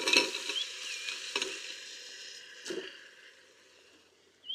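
Pieces of boiled mutton dropped into hot oil for a pulao, crackling with a few sharp bursts as they hit the pan, then a steady moderate sizzle that fades before a brief bright hiss at the end.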